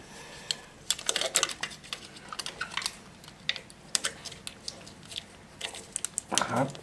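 Adhesive tape comes off a roll and is pressed onto an outdoor water supply pipe being insulated. Close, irregular crackles and sticky snaps come in bursts, with a louder tearing rasp near the end.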